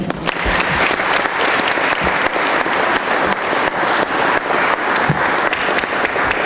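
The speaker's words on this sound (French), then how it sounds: "Est-ce qu'on peut les applaudir?" A wedding crowd claps enthusiastically and continuously, many hands applauding together, loud and close, for several seconds.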